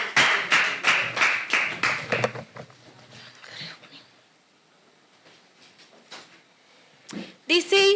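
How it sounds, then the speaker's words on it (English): At a youth debate competition, a few loud, rhythmic claps ring out for a debater coming on stage, then quickly die away into near quiet broken by scattered taps and a brief noisy burst at the end. "a round of applause as she comes on stage to debate"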